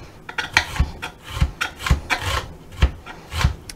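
A knife minces an onion on a cutting board, giving rhythmic thuds and scraping chops at a steady pace, close and moderately loud with no talk.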